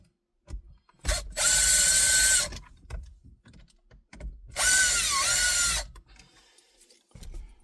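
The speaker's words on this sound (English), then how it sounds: "There's two screws here you're gonna have to take off. So let's start with these two at the bottom." A power driver backs out two screws from the dash of a 2018-2019 Subaru Outback, producing two loud, steady whirring bursts of about a second each, separated by quiet handling clicks and rustles.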